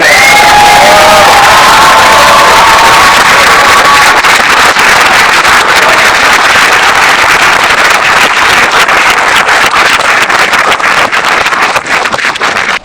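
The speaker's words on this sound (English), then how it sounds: "Let's give this group of powerful employees one more round of applause." Loud applause and cheering from an audience at a corporate employee awards celebration, dense clapping with whoops and shouts rising over it, very close and sustained, with a few tonal calls near the start.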